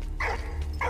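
Dog barking in the video game Valiant Hearts, two short yelps close together over a steady low hum, with no talk.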